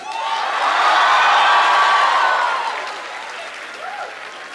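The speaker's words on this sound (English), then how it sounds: "A huge round of applause to you guys on behalf of our classmates." Audience at a university event applauding and cheering, a loud swell of clapping with whoops that peaks early and then tapers toward a softer tail.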